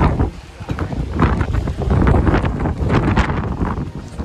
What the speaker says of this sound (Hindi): यहाँ पे तो इतना ज़्यादा हवा बह रहा है कि आवाज़ ही नहीं आ रहा होगा